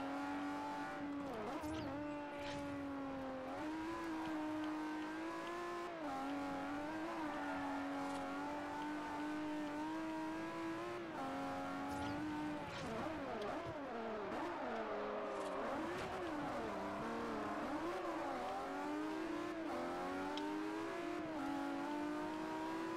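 A race car engine in Forza Horizon at near full throttle, racing a circuit in the Oakley High Rollers event. A continuous, loud, close engine roar rises and falls in pitch through gear changes and cornering.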